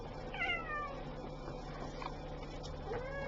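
Cats meow indoors, a few rising, drawn-out calls standing alone over a steady low hum, fairly faint and somewhat distant.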